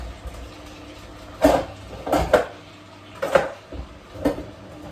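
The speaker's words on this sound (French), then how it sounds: "Je vais mettre le couvercle." A lid clicked onto a juice extractor after turmeric and lemon go in, giving four clattering plastic knocks spaced about a second apart, fairly close and with no voices.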